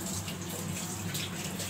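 Water runs from a tap in a short, quiet stretch of steady flow with a soft hiss and low rumble.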